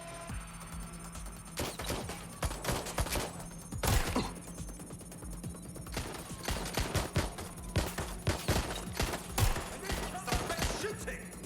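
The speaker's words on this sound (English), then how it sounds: "Shots fired! Shots fired!" Gunfire in the Watch Dogs: Legion video game, a ragged run of sharp shots and short bursts scattered over a steady game soundtrack, some shots louder and closer than others.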